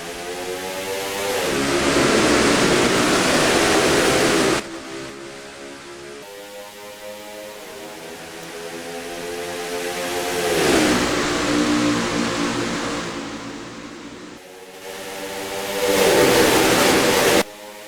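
NASCAR Racing 2003 race in Nevada: simulated stock-car engines roar through repeated rising and falling passes, swelling loud as cars sweep by and dipping between laps, with no voices over them.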